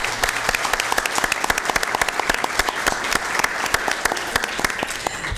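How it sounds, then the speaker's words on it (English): Applause from the audience at a Board of Supervisors meeting, sustained clapping with distinct individual claps standing out sharply close by, steady for several seconds with no talk. "Let's give her a round of applause before she starts."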